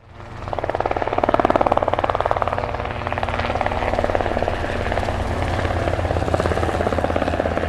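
A Banana Hobby AF Model MIG-17 radio-controlled jet comes in to land, its steady whirring, buzzing motor sounding loud and fairly close throughout, with no talk.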